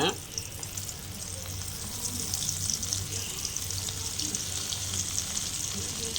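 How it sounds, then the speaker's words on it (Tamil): Dried stingray fish sizzling and frying in hot oil, a steady dense hiss of bubbling oil running continuously and fairly close, with no talk over it. "நம்ம எண்ணெய் காஞ்சிருச்சு, வாங்க நம்ம கருவாடை போட்டுக்கலாம்."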